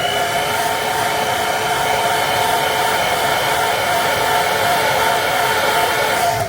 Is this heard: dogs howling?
no